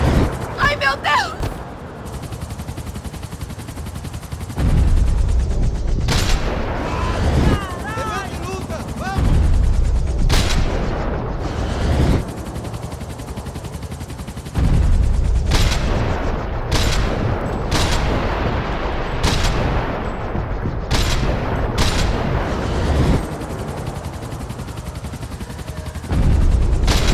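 Gunfire aimed at a helicopter in Max Payne 3, with bursts of loud shots and automatic fire over a constant rotor drone, punctuated by sharp cracks, while voices shout through the action.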